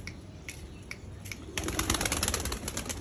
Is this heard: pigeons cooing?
yes